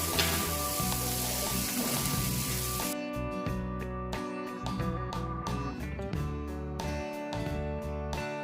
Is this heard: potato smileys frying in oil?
yes